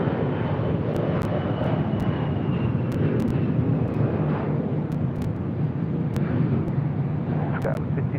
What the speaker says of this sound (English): kind of closer in trails and Airbus going around on the parallel